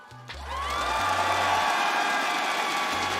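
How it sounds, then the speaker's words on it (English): Applause and cheering from a large arena crowd at the Rainbow Six Siege Six Invitational 2023 grand finals, a broad sustained roar of clapping and cheers that holds steady and loud throughout. "give it a round of applause for yourself and everybody watching from home"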